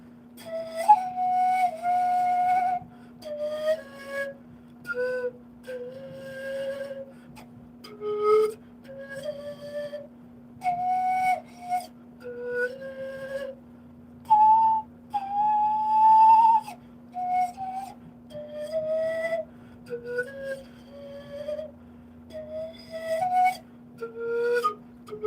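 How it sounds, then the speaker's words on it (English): Pan flute tuned to 432 Hz, a breathy whistling melody of short and held notes with slides, played alone over a steady low hum. "pan flutes just sound so much better in 432 tuning"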